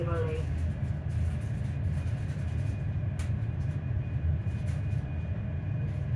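A ScotRail Hitachi Class 385 electric train runs toward Edinburgh Park, heard from inside as a steady low rumble with a faint whine, a brief electronic tone at the start and occasional small clicks.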